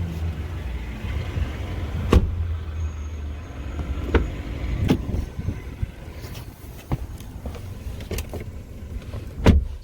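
Inside a 2020 Mercedes-Benz GLB250 4MATIC, a faint power window motor whirs under a low idle rumble, punctuated by several sharp clicks and taps spread across the stretch.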